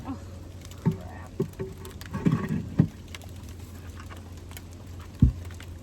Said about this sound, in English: I think I hear rain.